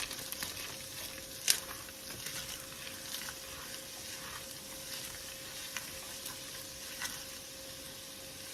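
Ingredients for a Texas Roadhouse-style chili sizzle steadily in a pan, a continuous close frying hiss with a few sharp clinks and scrapes as the pan is tossed, no talking.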